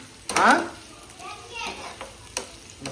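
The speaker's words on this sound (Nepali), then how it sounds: "ल त्यसमा अलिअलि भुटिँदैछ" Spices sizzle and crackle in a hot pan for matar paneer with bursts of stirring, while a voice talks briefly over the cooking.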